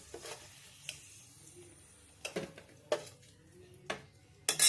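Pieces of jackfruit going into a pan after fried potatoes have been lifted out, heard as a few sharp metallic clinks and scrapes of a utensil against the pan, spaced irregularly over a quiet background with a faint sizzle.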